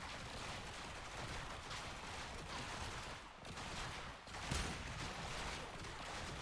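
Enemy gunfire in the video game Warframe, a dense, continuous rattle of shots that stays fairly loud throughout, with a brief dip in the middle and no talk over it.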